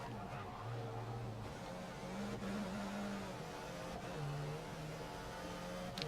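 A Formula 1 car engine in the F1 2016 racing game drones at a steady pitch that shifts up and down with the throttle, running continuously at moderate level with no break.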